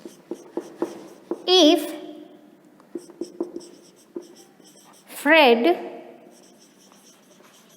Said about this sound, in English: So I'll write answers here, okay?